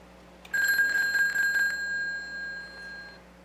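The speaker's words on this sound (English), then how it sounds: "Just call the phone from another line." A payphone rings when called from another line: a bright metallic bell clatters in a rapid burst for about a second, then a single ringing tone hangs and slowly fades.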